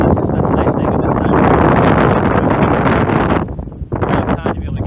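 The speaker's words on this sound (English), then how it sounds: "that was a good gust of wind" A strong gust of wind buffets an outdoor microphone during a church planting event, a loud continuous rumbling roar that fills the clip for over three seconds, briefly drops, then surges again.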